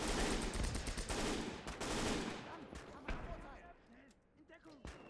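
Heavy, continuous gunfire and explosions from a World War II battle in Gates of Hell, with an anti-tank gun crew firing; loud at first, then thinning to scattered shots under a commentator's voice.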